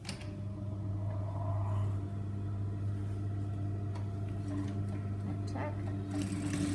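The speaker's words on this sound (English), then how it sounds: "we're going to stitch up into that pivot corner" A sewing machine runs steadily, stitching a seam with a 1 centimetre allowance up into a pivot corner; its motor hums continuously and close, with a brief spoken word over it.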